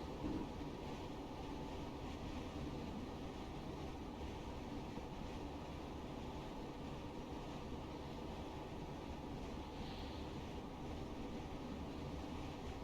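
A Class 317/1 electric multiple unit runs on the London Kings Cross line in Train Simulator Classic, giving a steady, even rolling rumble and hiss that continues unchanged throughout with no talking.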